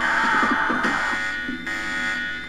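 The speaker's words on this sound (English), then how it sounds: "Once again, I fail at not setting the alarm off." A loud electronic buzzing alarm blares in the video game Deus Ex, a steady harsh tone holding for the whole stretch with brief warbling pulses near the start.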